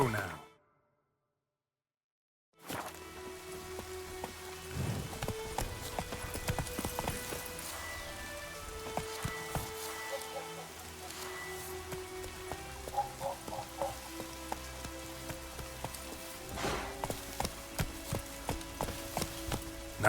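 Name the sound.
horse Roach's hooves galloping in video game The Witcher 3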